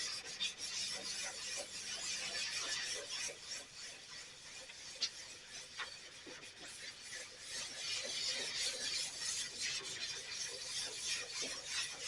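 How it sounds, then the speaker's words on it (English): Wet sandpaper rubs over a plastic headlight lens in steady, repeated circular scratchy strokes, a continuous close-up rasping with occasional faint squeaks. "And you start sanding in circular motions."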